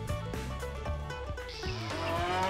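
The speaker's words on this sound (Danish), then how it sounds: "Nu har køerne været ude på græs, og nu skal de ind og have korn og ind og blive malket." Dairy cows, including a black-and-white milking breed, low mooing on a farm as the herd comes in from pasture for grain and milking, several calls overlapping amid steady barn noise with no talk.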